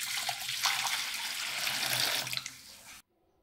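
Tap water runs into a bowl in a steady, hissing stream for about three seconds, then cuts off abruptly into near silence.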